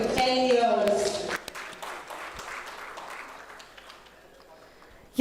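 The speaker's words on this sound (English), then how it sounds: "A huge round of applause for Hans for celebrating 10 years." Applause from a business conclave audience starts under a voice and music, then settles into a fading patter of claps that dwindles to scattered hands.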